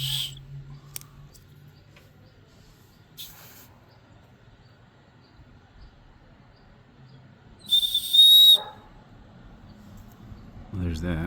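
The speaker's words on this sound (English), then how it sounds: "So that's your safety whistle." A Leatherman Signal's plastic safety whistle blown once in a short, sharp, high shrill blast, preceded by a faint quieter toot and surrounded by quiet room noise and handling sounds.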